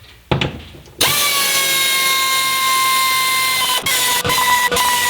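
A power drill spins up loud and close to back out the four tunnel bolts under a vehicle's pulled-back carpet, holding a steady high whine with a couple of brief dips as the bolts loosen.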